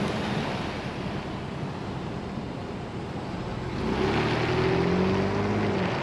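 Wind, road and tire noise fill the cabin of a 2-door Ford Bronco on the move: a constant broad roar that grows a little louder and heavier partway through, with no one speaking.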